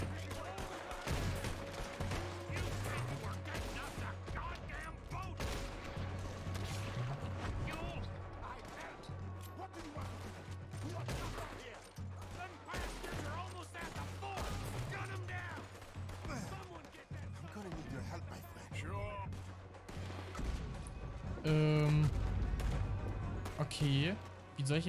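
Repeated gunshots and explosions from the video game Red Dead Redemption 2, with bursts of fire and impacts throughout, while someone talks over them.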